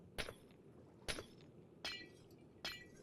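Glass blocks being broken in Minecraft, four sharp shattering crashes at a steady, roughly evenly spaced pace, each ringing briefly before the next.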